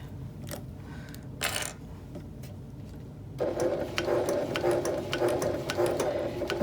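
A sewing machine runs steadily along the rolled, corded handles of a tote bag, a quiet continuous mechanical stitching hum after a few light clicks and a brief rustle.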